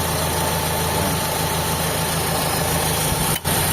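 Air conditioner compressor running after being wired directly past the pressure switch, a steady humming drone with a constant mechanical whine, close and continuous, with a brief dropout near the end.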